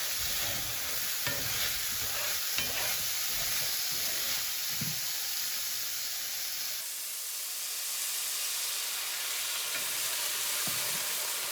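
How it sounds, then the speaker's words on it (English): Carrots and onions cook in a pan with a continuous hiss and sizzle, loud and near at first, then settling a little softer. "Add in your carrots and your onions."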